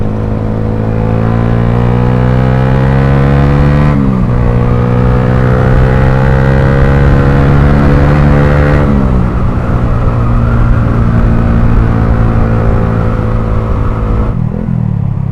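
A GSX motorcycle fitted with a WRX Lingga aftermarket exhaust idles loudly up close, its steady rumble rising in several revs and dropping back, with a distinct throttle blip near the end.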